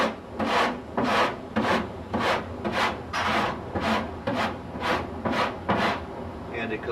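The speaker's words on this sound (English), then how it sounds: "After the Bondo, first coat of Bondo, you scrape to get some kind of a shape" Stanley cheese-grater rasp scraping first-coat Bondo body filler on a Chevy body panel, about ten rhythmic coarse rasping strokes, close and loud, evenly paced with no talk.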